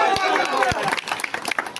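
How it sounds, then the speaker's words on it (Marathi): Crowd clapping and cheering at an outdoor political corner rally in Kopargaon, a dense, steady burst of applause with sharp individual claps and a few shouts running throughout. "लाडक्या बहिणीच्या टाळ्या उंचवू द्या बरं"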